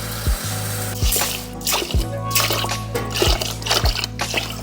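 Water poured in repeated measured portions onto rice in a cooker pot during meal prep, a series of short splashing pours with clunks of the measuring cup in between, close and moderately loud.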